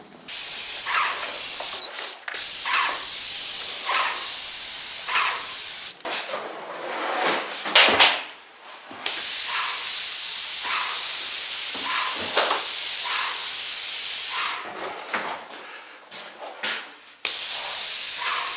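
Spray gun applying Taubman's water-based satin enamel to gloss trim, giving steady loud hissing bursts of several seconds each, separated by short pauses and quieter handling noise.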